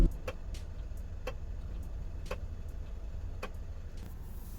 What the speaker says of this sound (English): It just makes this clicking noise back here.